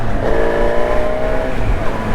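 Honda Hornet 1000 SP motorcycle on new tyres, engine revving up loud and close with a rising mechanical whine over a continuous rumbling exhaust.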